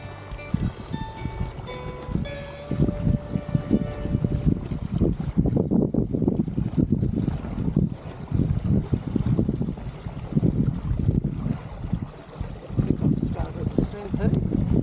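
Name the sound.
strong gusty wind while sailing a boat on the river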